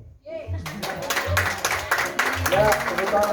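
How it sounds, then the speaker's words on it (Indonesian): Several people clap their hands in quick, uneven bursts at a small gathering, close and fairly loud, with voices, including a child's, talking over the clapping. "tepuk tangan buat mantap ya"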